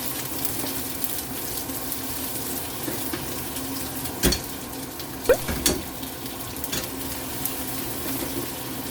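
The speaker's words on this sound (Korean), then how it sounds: "먼저 큰 스테인리스 팬으로 양파를 볶아보겠습니다" Onions stir-frying in hot oil in a large, heavy, flat stainless steel pan, a steady close sizzle with a few sharp clacks and scrapes of utensils against the metal.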